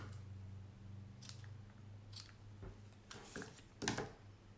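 Scissors snip through a ribbon loop while making a craft bow, a few faint, quiet crisp cuts scattered over a soft background hum.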